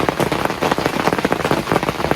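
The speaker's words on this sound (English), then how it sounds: "it's just miserably raining," Steady cold rain falling and pattering densely on a nearby surface, loud and continuous, with no talk, during an early-season muzzleloader hunt for black bear and doe in Pennsylvania.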